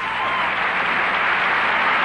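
Crowd applauding a gymnastics beam routine at a collegiate competition: steady, loud clapping and cheering from a full arena, continuous and even for the whole stretch without a break.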